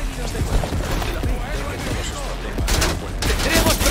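Gunfire in the video game Cyberpunk 2077, a dense, continuous volley of rapid shots over a busy mix, with bursts growing louder near the end.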